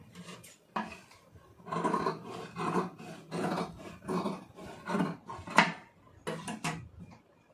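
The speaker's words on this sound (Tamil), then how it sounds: "இப்போ இதை வந்து கரெக்டாக வெட்டிக்கலாம்" Scissors cut through blouse lining fabric in a series of close, rhythmic rasping snips with short pauses between cuts and no talking.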